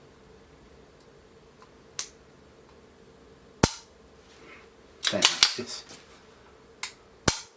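Staccato 2011 pistol with a red dirt trigger, dry-fired in a series of sharp, isolated metallic snaps spaced a second or two apart, close and crisp, with a brief cluster of rattling clicks in between.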